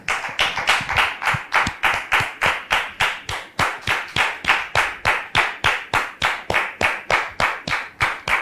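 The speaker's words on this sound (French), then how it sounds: "Merci, public, de la recevoir sous vos applaudissements." Steady, rhythmic clapping fills the space, loud and even, like an audience applauding in unison for several seconds.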